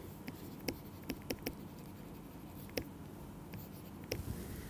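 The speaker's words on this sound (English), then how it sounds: "So, I can write with a different color." Pen writing during a physics lecture on property tensors, heard as faint scattered ticks and short strokes over a steady room hiss, with no speech.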